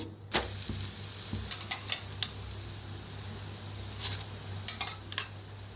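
Puran poli being flipped and cooked in oil on a hot griddle: a steady low sizzle with scattered light clinks and taps of a utensil against the pan, close and fairly quiet, with no voices.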